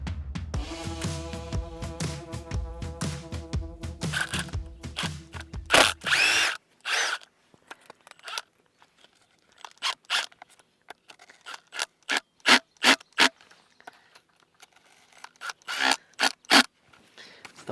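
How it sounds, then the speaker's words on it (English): A power drill backs screws out of a half-demolished outdoor workshop structure. There is a buzzing whir at first, then a run of short, sharp bursts and scraping clatter, all nearby. "So now we should be able to go in, get the screws out, and get it the rest of the way off."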